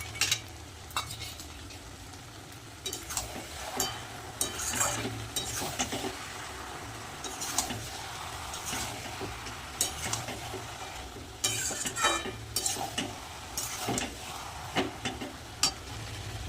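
Spinach frying in a pan for a vegetarian thali is stirred steadily, giving a continuous close sizzle broken by repeated scraping strokes of the spoon against the pan, with no talking.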